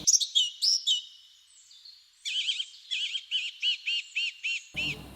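A partially leucistic blackbird calls close by, a run of high chirps followed by a steady series of about ten evenly spaced, sharp repeated notes, clear and alone with no talk.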